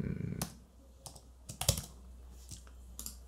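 Keys clatter on a computer keyboard as an email address and password are typed, a sparse run of close, crisp clicks over a low steady hum.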